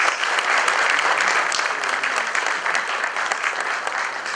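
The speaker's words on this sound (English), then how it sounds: "Shall we please give His Majesty a round of applause?" An assembled audience gives sustained applause for the Asantehene, Otumfuo Osei Tutu II, during a courtesy visit to the president: an even, dense patter of many hands that holds steady throughout.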